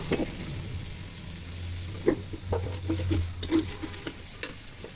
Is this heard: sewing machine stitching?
no